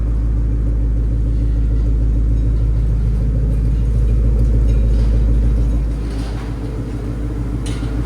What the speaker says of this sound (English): Now valves open. You can hear the tone is completely different. This is idle.